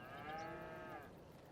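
Cattle in a Farming Simulator 22 pasture giving a single long, drawn-out moo, clear and moderately close over a soft game background.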